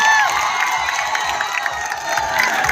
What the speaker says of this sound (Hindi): तीनों के लिए जोरदार तालियां हो जाए